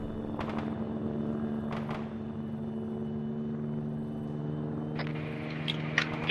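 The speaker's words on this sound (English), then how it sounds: "Helo's coming this way." Helicopter approaching in the military game Arma 3, a steady rotor drone with a loud, close engine hum and a few sharp bursts that rise toward the end.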